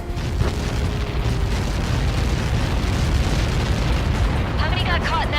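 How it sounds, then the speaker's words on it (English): Explosion in the video game Ace Combat 7, a dense, loud rumbling roar filling the whole stretch, with radio-style voices talking over it near the end. "How many got caught in that explosion?"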